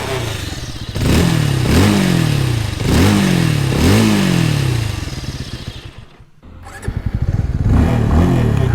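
A 2022 Bajaj Avenger 220 Cruise motorcycle's exhaust is blipped through about four loud, close revs that each rise and fall, then a pause and a further throttle burst.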